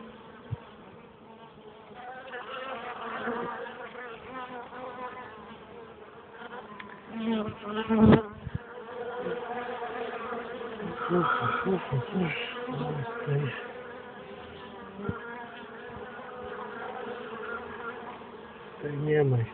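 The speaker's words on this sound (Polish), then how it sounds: "wygryza się pszczoła" Honeybees buzzing at an open hive during a July honey inspection, a dense continuous hum close by, with occasional handling knocks and brief low voices.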